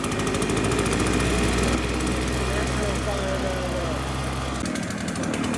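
A Husqvarna 150BT backpack leaf blower's small two-stroke engine runs loud and rough, droning with uneven sputtering, then cuts off abruptly near the end; voices can be heard over it.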